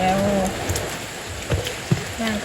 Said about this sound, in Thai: ฝนตกพี่น้องเอ้ยฝนตก